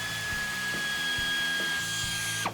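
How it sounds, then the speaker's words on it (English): A 10mm socket on a power tool backing out a bolt on a Jeep Wrangler JK axle bracket, a steady whirring drive with a few faint rhythmic knocks, ending in a rising whine as it spins free. "You're gonna use a 10mm socket to get that bolt out."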